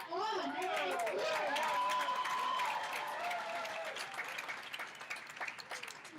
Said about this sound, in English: are you ready to cheer each other on?